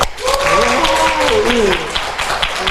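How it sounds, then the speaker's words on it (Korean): A church congregation claps together on cue, a steady wash of applause beneath a voice that talks or calls over it. "한번 박수 좀 쳐보겠습니다"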